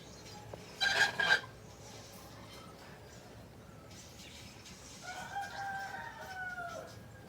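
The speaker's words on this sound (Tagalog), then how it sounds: "maingay ang dito mga manok sa amin" A rooster crows loudly near the start, then after a quiet stretch a softer, longer crow and clucking from chickens follow.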